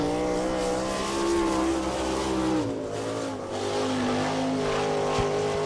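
Lone sprint car on a qualifying lap at Attica speedway in Ohio, its engine howling loudly and close with a steady high pitch, dropping briefly as it lifts and then climbing again.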